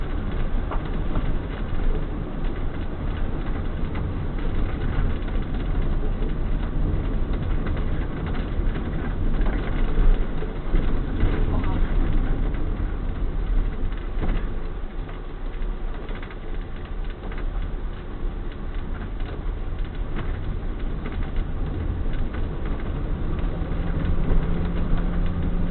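A converted ambulance's engine drones steadily under engine braking, a continuous close mechanical rumble with slight swells in level and no voices.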